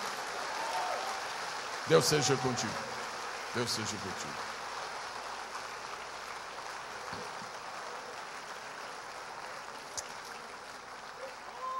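Steady applause from a church congregation fills the background throughout, with a voice speaking briefly over it.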